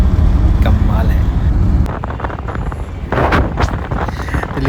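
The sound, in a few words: wind blowing past a moving car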